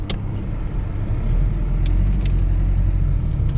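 A Chevrolet Opala Diplomata with a 2.5-litre engine running on hydrated ethanol drives along, its steady, smooth engine rumble and road noise heard from inside the car, with a few faint clicks.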